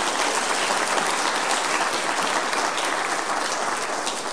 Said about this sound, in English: Please give Vincent a clap.